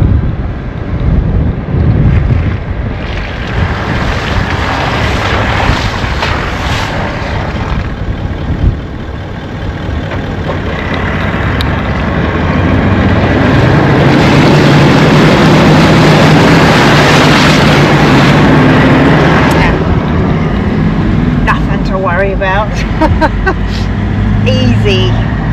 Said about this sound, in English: So we're just about to cross Eli Creek in the car. It's pretty deep actually